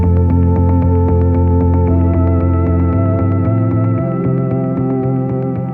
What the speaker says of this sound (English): then actually it goes into this main pad thing that's